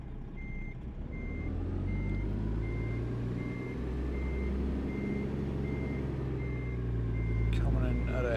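A truck in American Truck Simulator backs up to hook a trailer, its reversing alarm beeping in a steady regular rhythm over a low engine rumble, with someone talking over it.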